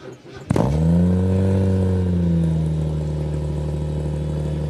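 A Jaguar XK engine at an outdoor concours cranks briefly and fires with a sharp catch, then settles into a loud, steady, deep idle close by, its low rumble fading slightly as revs drop.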